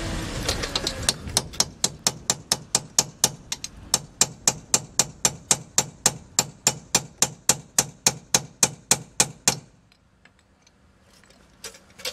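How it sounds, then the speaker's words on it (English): A chisel hammered against the rear wheel hub of a 1997 Honda Civic, a rapid, steady series of sharp metallic strikes, loud and close, roughly three per second, stopping abruptly near the end and leaving quiet. "the best way to do that is get a chisel, get in there"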